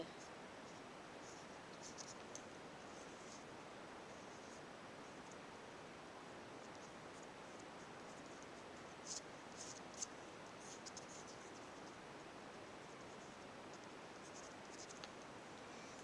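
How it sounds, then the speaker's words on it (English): A pen moves across watercolour paper while plants are sketched beside a painted bee, giving a very faint, steady scratchy hiss with a few brief light taps throughout. "I'm now going to add a little bit of pen to these plants"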